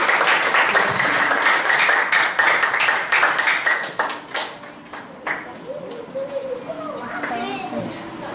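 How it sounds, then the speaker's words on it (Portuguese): Audience applause at a graduation ceremony, a dense wash of clapping through the first half that thins out while children's voices and chatter carry on underneath. "Vamos aplaudir então?"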